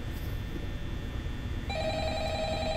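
In the Five Nights at Freddy's video game, a telephone starts ringing partway through over a low steady hum, a clear electronic ring tone that persists to the end.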